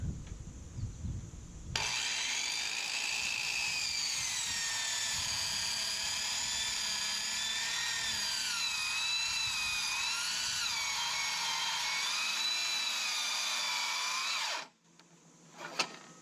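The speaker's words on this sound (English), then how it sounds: "You're actually cutting a large V every time you cut." A power saw cuts V-shaped notches into deck wood with one long, steady, high-pitched whine lasting most of the span, then stops abruptly and winds down.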